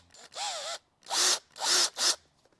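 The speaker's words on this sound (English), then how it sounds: "Let's drill some stuff." A handheld power drill being test-run before drilling, with four close, loud whirring bursts in a row, each spinning up and down with a brief pause between.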